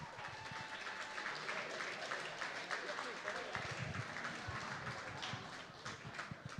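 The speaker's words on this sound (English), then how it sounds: "give them another round of applause" Studio audience applause for a Packers wide receiver on a live clubhouse show, a dense steady patter of clapping that runs the whole time under overlapping talk.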